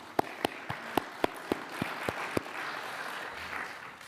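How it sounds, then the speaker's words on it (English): A few sparse, sharp claps ring out one by one at an even pace, fairly close, against a quiet church. "you guys really deserve a huge round of applause for that"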